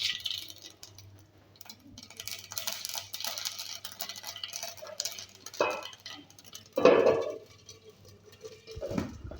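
Mustard seeds dropped into hot oil in a home kitchen give sparse, faint pops and light crackling patter, with a louder burst of sputtering partway through.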